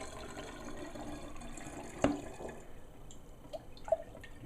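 Honey water poured through a funnel for making mead, soft trickling and dripping liquid with a couple of small splashes and gurgles, close and quiet, no talking.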